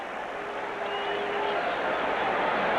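Football stadium crowd at a 1986 Eagles–Cardinals NFL game in St. Louis applauding a first-down catch, a steady broad wash of distant clapping that swells slightly toward the end.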